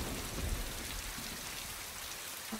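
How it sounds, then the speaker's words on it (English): Steady rain pours down in a horror adventure game, a dense continuous hiss of drops on surfaces with faint low rumbles underneath, no voices. "The rain isn't even thinking of letting up."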